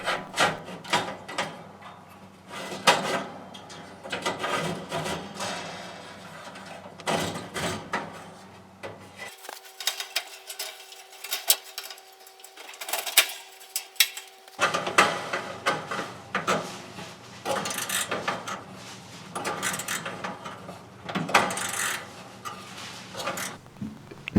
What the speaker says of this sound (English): Start by sliding the new element into its housing and securing its mounting screw